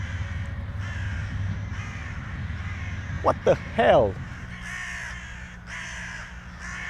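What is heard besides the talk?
crows cawing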